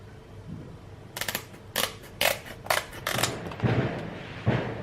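Scissors cut through material for a doll bed headboard, giving a series of sharp, close snips in an uneven rhythm with quieter rustling between them.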